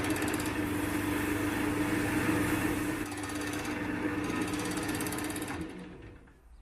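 Acrylic pen blank being sanded with 240 grit paper on a spinning lathe, a dense steady mechanical whir with a droning tone that holds for several seconds, then fades out as the lathe winds down.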